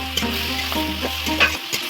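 Duck meat fries in a pan with onions and spices, a close and continuous crackling sizzle with a low electrical hum underneath.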